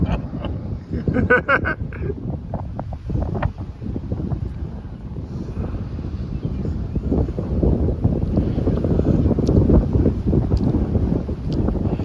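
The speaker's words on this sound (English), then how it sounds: "it's really windy" Strong wind on a riverside with barges moored nearby roars steadily into the microphone, a continuous loud low rumble gusting throughout with no speech.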